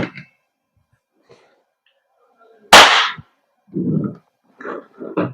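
A WE Glock 17 Gen 5 airsoft gas blowback pistol fires a single sharp, loud crack at close range, with brief talk before and after the shot.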